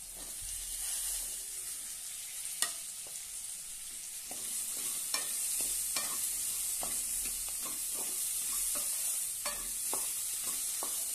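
Ridge gourd sautéing in a hot pan, a steady close sizzle with sharp scrapes and stirring clicks scattered throughout, no voices.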